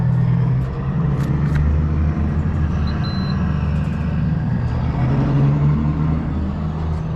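A truck travelling on the road, a steady low engine rumble and road drone throughout at close range, with faint rattles and a brief high tone.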